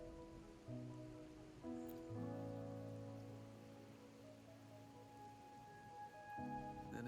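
Steady rain falling in the video game Wuthering Waves, a soft continuous patter beneath sustained tonal music that swells and shifts throughout.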